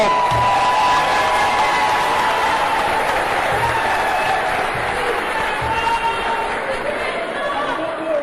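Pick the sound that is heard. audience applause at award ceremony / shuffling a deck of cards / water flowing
audience applause at award ceremony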